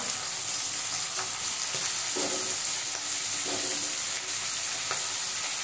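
Carrots, peas and beans stir-frying in a pan for a veg Kolhapuri masala, a loud continuous sizzle with occasional scraping stirs of the spatula.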